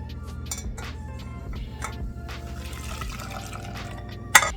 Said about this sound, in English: We're going to pour it back into our saucepan.